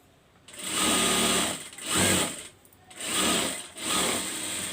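A sewing machine double-stitches a blouse sleeve in four rhythmic bursts of steady whirring, each a second or so long, separated by short pauses, close and fairly loud.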